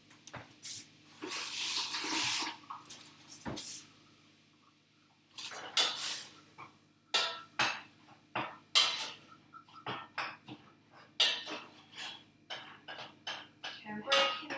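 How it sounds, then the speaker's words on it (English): Hands are washed free of garlic at a kitchen sink, with running tap water spraying in bursts and a string of short clinks and splashes, close and fairly quiet. "I'm just going to go and wash the garlic off my hands"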